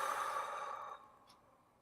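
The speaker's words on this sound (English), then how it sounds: "and then breathe out." A single long exhale during a box breathing exercise, soft and close, a steady breathy rush that fades out after about a second, leaving near silence.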